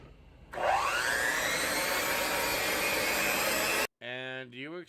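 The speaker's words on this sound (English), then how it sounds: "you're going to whip it again carefully" An electric mixer whipping burger mixture with honey and hot water whirs loudly and steadily for several seconds, then cuts off abruptly, followed by a brief burst of nearby talk.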